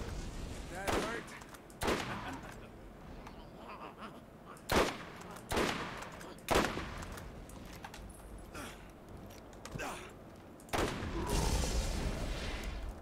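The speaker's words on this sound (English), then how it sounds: "Ooh, explosion." Gunfire and explosions in the video game Borderlands give repeated sharp bursts and booms spaced across the stretch, some clustered and loud, with a rumbling blast near the end and someone talking between them.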